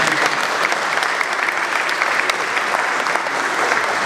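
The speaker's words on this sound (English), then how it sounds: "That's an applause line." Steady audience applause fills a hall during a 2017 State of the City address, dense and even throughout with no break, a large crowd clapping together at close range.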